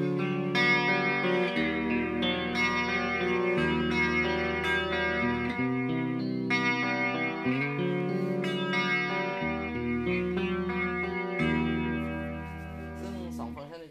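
Electric guitar through a Marshall VS265 amp with the chorus effect on, speed and depth at noon: sustained chords played in a steady sequence, loud and close, fading at the end.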